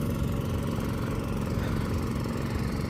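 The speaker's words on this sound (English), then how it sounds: "that golf cart just drove by. It sounds like crap." Rented golf cart on Grand Turk in Turks and Caicos, a coarse, continuous buzzing engine drone like a weak lawn mower, steady and fairly close with no voices over it.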